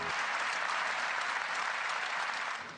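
A huge crowd of over 100,000 faithful in St Peter's Square applauds Pope Benedict XVI as his popemobile passes, a dense, steady roar of clapping that holds evenly, then begins to fade at the very end.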